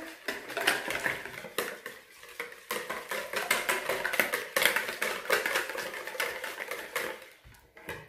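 Liquid pizza dough ingredients with olive oil being mixed in a bowl: a continuous busy clatter of a utensil scraping and tapping against the bowl close up, steady throughout and tapering off at the end.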